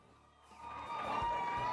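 A crowd of supporters at a Houston political rally, cheering and whooping, swelling from a quiet start to a sustained roar that carries to the end.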